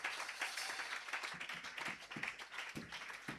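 A worship service congregation claps, giving a loose, fairly faint patter of hand claps with uneven rhythm throughout, with no voices over it.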